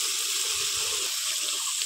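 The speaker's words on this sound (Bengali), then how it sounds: "এতে একটু এবার সামান্য জল দিয়ে দেবো যাতে মশলাটা পুড়ে না যায়।" Water poured into frying spices for a village-style red country chicken curry, a steady close hiss and splash running throughout, with a faint low bubbling sizzle underneath.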